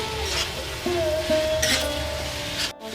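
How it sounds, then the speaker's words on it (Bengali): Tomato, capsicum and green chillies fry with spices in hot oil for a village-style chicken curry, a steady sizzle running throughout with a few stirring scrapes and clinks of a utensil against the pan, close and moderately loud. "মশলাটা খুব সুন্দরভাবে কষিয়ে নিতে হবে যতক্ষণ না তেল ছাড়বে"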